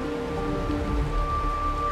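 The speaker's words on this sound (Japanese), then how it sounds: "雨の音よ。" Rainfall in the video game Honkai: Star Rail patters steadily on surfaces, a continuous close shower with a faint sustained tone running beneath it and no speech.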